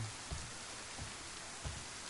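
Rain falls steadily in the video game DayZ on PS4, a faint, even hiss of rainfall with a few soft low thumps, no talking.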